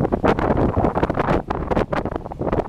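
Heavy wind buffets the microphone in rough, booming gusts, a continuous low rumble with no voices.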